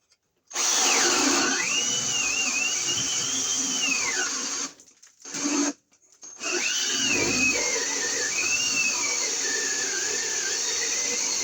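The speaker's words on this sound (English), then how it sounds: "first we'll start with drilling a hole up here" A power drill bores a hole in a wall while a new 15 or 20 amp, 120 volt branch circuit is being wired. Loud steady whine with two short pauses where the motor cuts out and restarts, heard alone.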